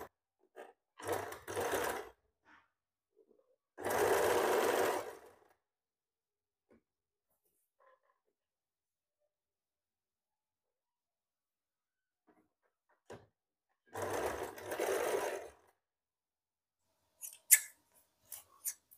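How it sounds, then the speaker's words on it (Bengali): An electric sewing machine stitches along a garment's neckline in short bursts of rapid whirring and clattering, separated by long silent pauses, close and fairly loud. "আমি গলার দিক থেকে সেলাই করছি"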